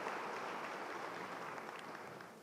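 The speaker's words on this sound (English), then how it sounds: "Let's give these individuals a round of applause." A college commencement audience applauds steadily, a dense even wash of many hands clapping at a distance in a large hall, slowly tapering toward the end.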